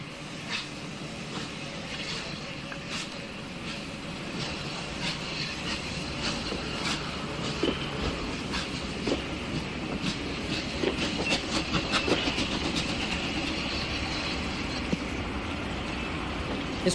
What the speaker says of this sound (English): City of Wells now pulls its train into a siding.